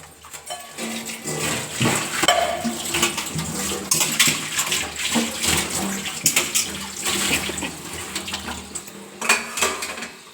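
Water runs and splashes into a pressure cooker holding ridge gourd and okra in a home kitchen, a continuous pouring sound with a few metallic clinks of the pot, close and fairly loud.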